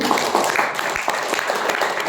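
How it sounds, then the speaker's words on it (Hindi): Applause from an audience cheering for a woman teacher, a dense wash of many hands clapping continuously and fairly loud throughout, with no voices on top. "मैडम के लिए तालियां बजाइए।"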